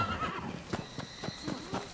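A horse in the video game Rise of the Ronin whinnies, then hooves clip-clop in a quick, fairly soft rhythm nearby.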